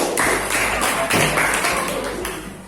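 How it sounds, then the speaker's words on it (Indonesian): Classmates in a school classroom clap for the first student group, a dense, steady patter of many hands that runs unbroken for a few seconds at close range. "tepuk tangan buat kelompok 1"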